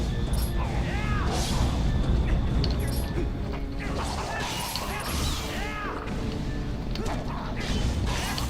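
Mechanical whirring and creaking machinery from Twilight Princess, with clanking ratchet-like clicks over a dense, steady game soundscape and loud background music, continuous throughout.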